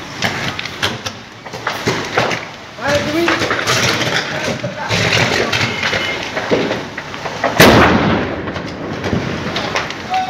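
An electrical transformer explodes outdoors in Morón, with rumbling and crackling bursts and a sharp, loud bang near the end, mixed with excited voices talking over the noise.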